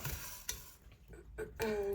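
Rice dry-roasting in a pan, to be ground into powder for avalosunda, gives a quiet scraping stir broken by a few sharp, scattered pops and crackles up close.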